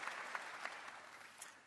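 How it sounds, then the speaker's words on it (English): An audience at the Cisco Live 2024 conference in Melbourne gives a round of applause for a presenter, a brief, fairly faint patter of many hands. "Let's give Ray a round of applause, everybody"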